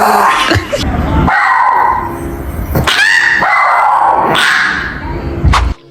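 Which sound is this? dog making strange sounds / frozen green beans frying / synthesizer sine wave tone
dog making strange sounds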